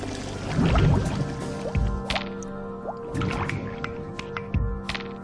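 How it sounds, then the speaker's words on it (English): Warm water boiling in a vacuum chamber during an air-pump experiment: close bubbling, gurgles and drips, irregular and busy with no one speaking. "Water that was only warm started to boil."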